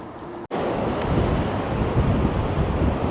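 Strong wind buffets the microphone over the continuous roar of surf and crashing waves on the Blackpool seafront, loud and close, with no voices.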